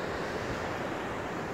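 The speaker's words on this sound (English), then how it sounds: "And there's the waves there." Ocean waves washing against the shore near a coastal cave at Point Labatt, a dense continuous roar of surf with wind buffeting the microphone, loud and close with no voices.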